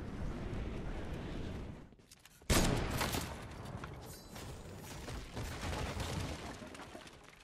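Video game gunfire in bursts of rapid clattering shots, with a short quiet gap before a loud volley and then more scattered mechanical firing.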